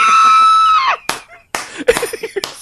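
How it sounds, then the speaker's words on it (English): A sustained, piercing scream from the 1978 horror film Halloween rings out loud and close, breaking off into sharp thuds and whimpering cries. "it's like the scream and a whimper at the same time"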